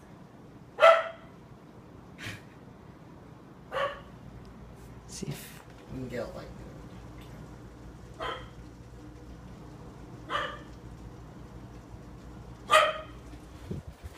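Small dog frightened during a powerful lightning storm, giving sharp single barks and yips spaced every couple of seconds, moderately near, with a person talking quietly between them.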